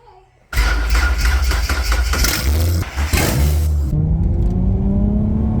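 A Ford Falcon six-cylinder car engine cranks and fires, then revs loudly and roughly with a deep throbbing rumble, rising and settling into a steady idle. The engine is heard close up with no talking.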